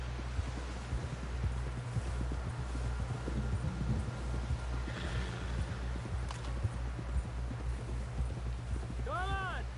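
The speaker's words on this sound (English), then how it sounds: "Someone help John down off this horse" Horse hooves clip-clop in a quick, steady rhythm over a low, constant drone, with a short whinny-like sound near the end, in the video game Red Dead Redemption 2.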